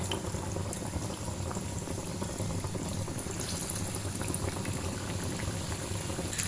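Paneer pakoras frying in hot oil for a street-food snack, with a dense, even sizzle that runs unbroken and fairly loud from start to finish.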